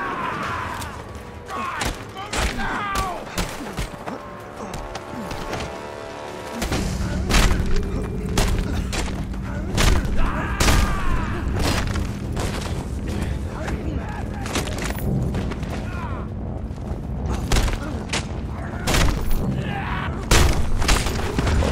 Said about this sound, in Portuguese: Só na explosão ali morreu uns três.